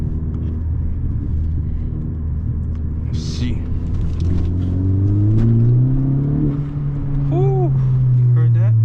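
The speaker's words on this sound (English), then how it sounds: "Let's see if we can get a second gear pull. See if we can hear this turbo." Honda Civic Si with a turbo during a hard second-gear pull: a loud, steady engine drone rises in pitch as the car accelerates. Someone talks briefly over it from inside the car.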